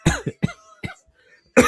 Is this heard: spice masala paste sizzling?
no